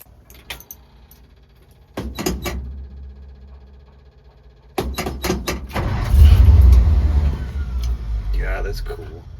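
1956 International S-160 4x4 truck after a carburetor rebuild, with clicks and clatter before the engine cranks and starts into a loud low rumbling idle nearby.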